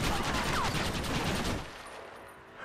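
Machine gun fire in Red Dead Redemption during a squad ambush: a loud rapid burst of automatic shots that stops after about a second and a half, leaving a fading tail.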